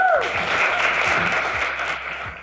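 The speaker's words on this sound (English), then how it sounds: "let's please have a warm round of applause for our first poet of the night, Mr. Sebastian." Audience applause for a poet at a university poetry jam, steady close clapping from a small crowd that tapers slightly by the end.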